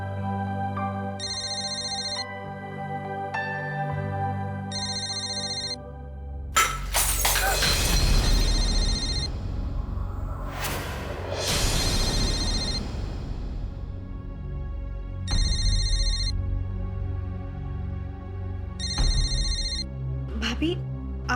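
Glass shatters loudly twice in an indoor home setting while a telephone rings in repeated bursts before and after, with a voice speaking in between.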